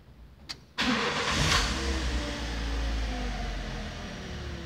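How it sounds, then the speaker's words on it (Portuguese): A Fiat Palio or Uno engine cranks briefly and catches, then settles into a steady, close idle inside the car, a low continuous rumble that holds alone to the end. "Pronto, já funcionei o motor."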